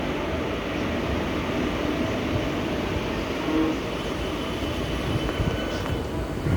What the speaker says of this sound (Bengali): এটা হলো হাওড়া থেকে ভদ্রক থেকে হাওড়া বাঘাযতীন এক্সপ্রেস।